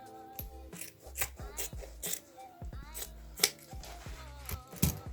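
Scissors snipping through fabric beside a seam on a thrifted garment being upcycled, a series of close, crisp irregular cuts with short pauses between them, no speech.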